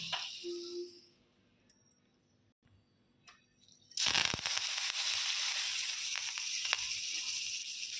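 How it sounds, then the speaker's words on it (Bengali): Mustard seeds, curry leaves, green and dried chillies and a paste hit hot butter in a tempering, bursting into a sudden loud, steady crackling sizzle after a few quiet seconds of small clinks. "দেখুন এই যে পোড়নটা দেবো, 3টা জিনিস আছে, সর্ষা, কারিয়া পাতা, কাঁচা লঙ্কা, শুকনো লঙ্কা, এই পেস্টটা ছেড়ে দেবো"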